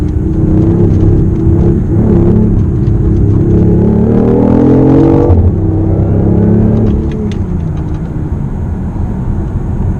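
A BMW i8 hybrid sports car accelerating hard, a loud, close engine drone rising in pitch through gear changes, then easing to a steadier cruising hum, with no voices over it.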